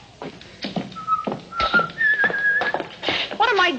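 A person whistles a short, wavering tune in bright bursts backstage, with soft taps and movement around it.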